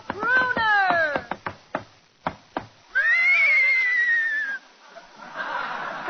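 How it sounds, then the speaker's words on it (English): A radio sound effect of a horse whinnying opens with a loud, wavering neigh, followed by sharp hoof-like knocks and a second long, descending whinny, then a breathy snort. "Abbott, there's somebody riding into the studio on a horse."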